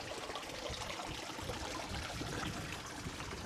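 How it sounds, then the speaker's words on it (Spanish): Rainwater running down a hillside trail near a village, a steady close rushing trickle of flowing water with no voices, constant and even throughout. "fijaos cómo baja el agua"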